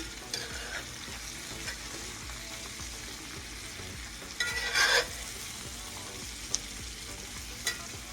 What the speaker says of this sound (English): I'm going to flip my potatoes over and get my onions kind of mixed in there a little bit more.